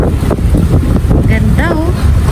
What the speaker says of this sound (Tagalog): Grabe ako sa hangin guys.